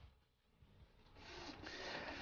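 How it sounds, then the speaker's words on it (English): Late-1990s inkjet printer of the Hewlett-Packard or Canon type running a print job, with a steady mechanical whir and carriage rubbing that grows louder and holds, alone with no talk. "the other one is still printing away"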